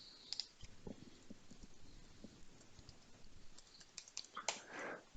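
Rapid, light clicking of keys on a computer keyboard while entering a wallet address into a crypto mining setup, an irregular close patter with a louder rustle near the end.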